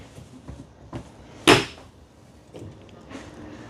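Cabinet doors and drawers close softly in a new Alliance Benchmark 42LFT destination-series RV: a few faint thumps, then one louder, sharper close near the middle. No one talks.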